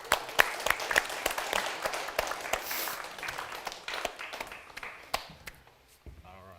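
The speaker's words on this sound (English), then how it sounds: "Big round of applause." A small audience at a live Roland music webcast event gives scattered, uneven applause with distinct individual claps and occasional cheers, tapering off sparsely before speech resumes at the end.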